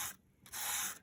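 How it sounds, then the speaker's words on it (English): Sandpaper rubbed lightly over embossed Rinea foil paper, two short scratchy strokes with a pause between, close and soft with no voices. "So I've just got a little piece of sandpaper here."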